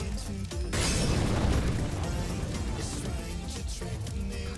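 A Molotov cocktail thrown on Cache in CS:GO, a sharp burst followed by a loud whooshing, crackling flare of fire that slowly fades, close and alone.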